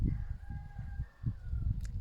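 A rooster crows once in a long, wavering call that holds steady across most of the two seconds over a low rumble of background noise.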